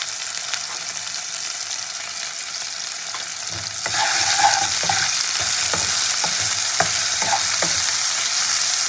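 Chopped tomatoes frying in hot oil with a pinch of salt, a steady sizzle that grows louder partway through, broken by repeated scraping clicks of a spoon stirring the pan.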